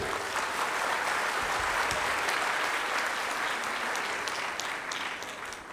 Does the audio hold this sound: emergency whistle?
no